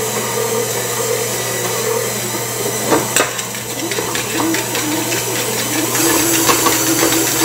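Electric mixer beating cream cheese for a carrot cake, a steady loud whirring drone that runs throughout with a brief clatter near the middle.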